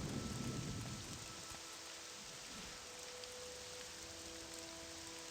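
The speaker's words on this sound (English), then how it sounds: "Is it still raining?" Steady rain falls in the video game Morrowind, a faint, even hiss with a low rumble of thunder early on, heard alone at low level.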